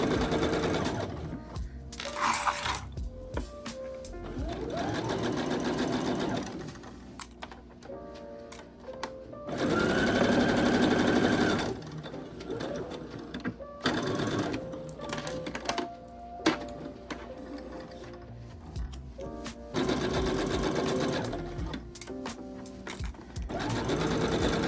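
Sewing machine running a long seam on a Simplicity S3230 tent dress with a 5/8 inch seam allowance, steady mechanical whirring in several bursts broken by brief pauses, fairly close and loud, no talk.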